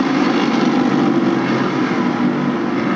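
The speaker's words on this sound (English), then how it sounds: "These guys are standing on the throttle." A pack of late model race cars at full throttle on the Stafford Speedway oval during a 1993 feature, a loud, steady, roaring engine drone with no breaks.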